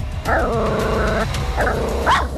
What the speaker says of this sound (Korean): 강아지들 으르렁거리는 소리